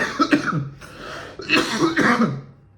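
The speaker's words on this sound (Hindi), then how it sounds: "मेरे खांसी जाता ही नहीं है" A few harsh coughs in quick succession, close and fairly loud, with throat-clearing sounds between them.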